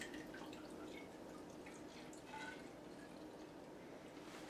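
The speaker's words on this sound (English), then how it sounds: "So taking a sample to pour into the tube that we're going to place the hydrometer in." A beer sample is poured into a hydrometer tube during home brewing, giving a steady, faint trickle and splash of liquid that runs continuously for several seconds without pause.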